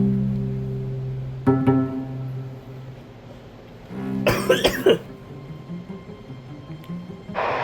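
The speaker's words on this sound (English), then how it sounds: "That's a nasty cough." A man coughs in a couple of harsh, explosive bursts, one early and a louder, rougher fit midway, with a throaty quality and quiet gaps between them.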